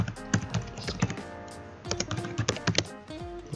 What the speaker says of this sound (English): I bring it down here, and I increase its size, and I type landscape design